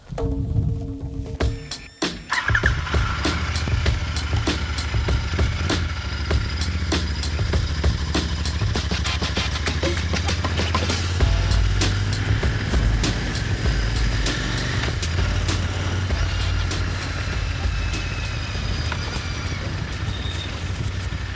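A Royal Enfield Interceptor 650 motorcycle engine runs steadily while riding, a loud continuous low rumble with wind and road noise after a brief quieter start.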